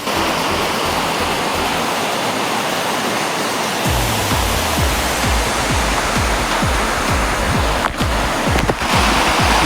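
Ghogata waterfall pours with a dense, constant roar of rushing water, loud and close, with rhythmic low surges and no voices.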